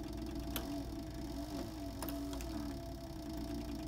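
A CB 3200 sewing machine stitches flame designs into leather with a steady, even mechanical whir, close and continuous, and a few sharper clicks stand out.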